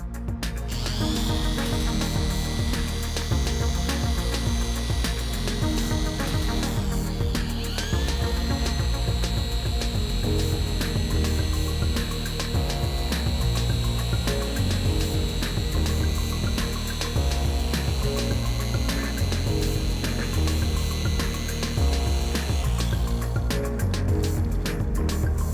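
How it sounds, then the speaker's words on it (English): A power drill whines steadily with a polishing wheel buffing a used plastic motorcycle fender, a continuous high motor tone running nearly the whole time before cutting off near the end. "what a polishing wheel does on a drill, on a used fender"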